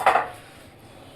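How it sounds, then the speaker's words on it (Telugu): Ridge gourd chutney, boiled and ground on a stone mortar, is scooped into a bowl, giving two quick close scraping clinks of a utensil against the bowl, followed by quiet room tone. "గిన్నెలో తోడేస్తున్నాం దీన్ని."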